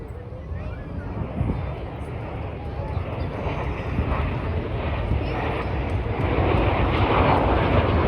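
A Red Arrows display jet climbs vertically while trailing smoke at the Blackpool air show in 2024, a steady, broad engine roar that builds slowly and holds at a distance, with wind buffeting the microphone.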